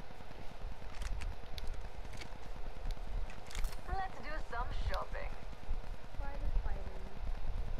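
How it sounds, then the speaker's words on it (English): Rapid, even footfalls from the game Apex Legends patter steadily throughout, close and continuous, mixed with in-game effects and a voice talking over them. "I think I'm hearing footsteps behind me"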